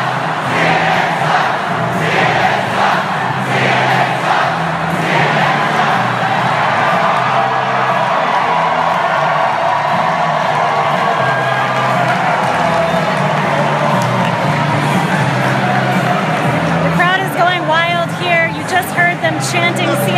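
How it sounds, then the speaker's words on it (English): A large crowd at a Bernie Sanders rally cheers and chants, a dense, continuous roar of many voices that holds steady throughout, with scattered shouts rising over it near the end. "there is a big crowd there. And apparently they started a couple of chants"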